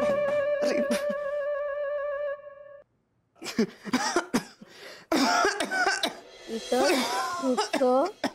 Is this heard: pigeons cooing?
no